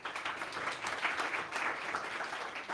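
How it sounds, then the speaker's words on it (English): Audience applause at a startup pitch event for an Israeli angel investor, a steady wash of many hands clapping, fairly distant and even throughout. "Big applause for him."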